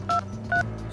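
Two short telephone dialing tones from a call placed through a visible light communication network, each a clean dual-pitch beep, sounding close and clear in quick succession.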